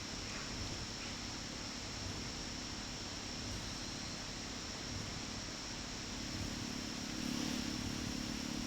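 Ninja 300 motorcycle engine in the Roblox racing game MotoRush, a steady loud droning hum that holds through the whole stretch and swells slightly near the end, with no talk over it.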